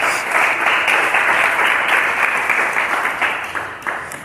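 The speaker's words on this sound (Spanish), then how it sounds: "Denle un fuerte aplauso al Señor" A church congregation gives the Lord a loud, sustained round of applause, dense clapping filling the sanctuary steadily for several seconds without a break.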